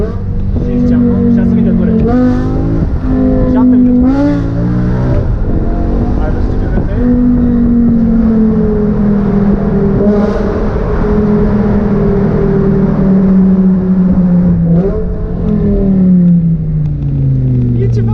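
A new 600 hp BMW M5 accelerates hard through the gears, heard from inside the car, its loud engine rising in pitch, dropping at each shift and climbing again, with people talking over it.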